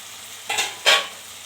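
Potatoes with egg frying in a pan and being stirred, two short close scraping swishes over a faint sizzle, with no voices.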